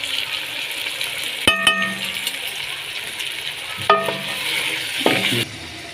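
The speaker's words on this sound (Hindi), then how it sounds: "फ्राई हो गई हैं हमारी गर्दनें" Chicken necks fry in a pan for a chicken pulao, a continuous close sizzle broken by a few sharp metallic clinks of a utensil against the pan.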